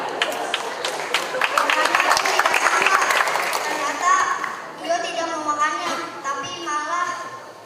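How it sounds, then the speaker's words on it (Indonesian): Children and adults at a reading-movement event clap for a young reader named Rafa, a lively burst of applause mixed with kids' chatter that gives way to children speaking. "Tepuk tangan buat Rafa."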